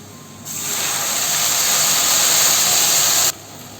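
A sudden loud hiss as a little water hits a hot pan of fried onions and garlic, a sustained steamy roar lasting a few seconds before cutting off.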